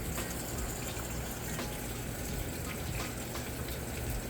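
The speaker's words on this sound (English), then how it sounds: "You can hear that water running down in there, filling the tub up now." Water runs steadily into the tub of a Whirlpool washing machine, a continuous broadband rush and trickle heard up close, with no talking over it.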